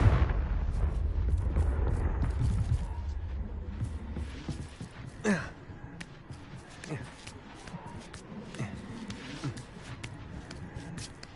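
A Confringo fire spell explodes in the video game Hogwarts Legacy, giving a quiet, low rumbling burst at the start followed by a few faint, scattered cracks and thuds.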